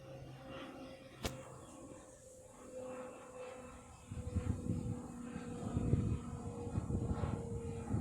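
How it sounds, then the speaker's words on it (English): A propeller airplane drones overhead at a moderate distance while approaching to land near Subang airport, its engine growing louder and steadier toward the end, with faint outdoor ambience and a brief click early on. "And there's a plane that's actually flying to land as well too."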